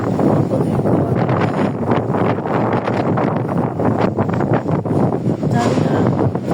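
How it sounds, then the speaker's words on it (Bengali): Strong wind roars outdoors as a continuous loud gusting rush buffeting the microphone, with no clear talking. "অতিরিক্ত বাতাসের কারণে"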